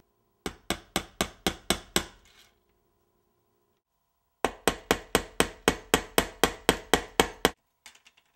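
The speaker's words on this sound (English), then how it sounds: "I'm nailing the bridge down just for safety." Sharp hammer strikes nailing down the wooden bridge of a homemade electric upright bass built from a 1x3 board, in two rapid runs of about eight and eleven evenly spaced blows, separated by a pause, close and loud.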